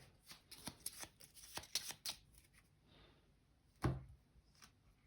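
Cards from the Bloodborne board game are shuffled on a table, a quick run of crisp riffling flicks and then a single louder tap as the deck is squared, soft and close.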